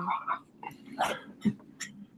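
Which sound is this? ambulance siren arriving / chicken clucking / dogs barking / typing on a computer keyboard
dogs barking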